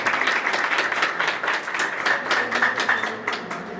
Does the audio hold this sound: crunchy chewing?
no